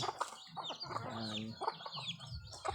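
Backyard chickens, including large Shamo-type fowl and hens with chicks, cluck and call in a busy mix of short clucks and one drawn-out call, with a person talking faintly in between.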